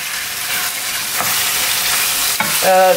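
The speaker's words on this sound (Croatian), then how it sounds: "vrijeme je da opet promiješam malo ovo meso" Chicken meat frying in a pan for tortillas, stirred with a steady scraping rustle over a loud continuous sizzle, ending in a brief higher-pitched clatter or squeak, close and with no voices.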